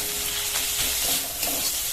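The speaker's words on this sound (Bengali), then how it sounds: "গ্যাসের ফ্লেমটা লোতে রেখে চিকেনটা ভেজে নেব" Minced chicken with spices frying in a pan over a low gas flame, a steady close sizzle with faint stirring scrapes and no voices.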